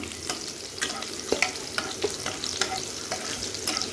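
Chili and chopped ginger, with panch phoron spices, fry and crackle in a hot pan, a steady close sizzle broken by frequent sharp pops and spatters, no voices.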